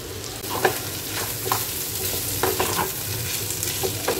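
Shrimp and rice stir-frying in a pan at home, a steady close sizzle broken by repeated scraping stirs of a spatula, with no voices.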